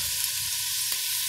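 Pumpkin and onion sauté in oil for a red pumpkin soup, giving a steady, even sizzle with a faint tap of the pan near the end.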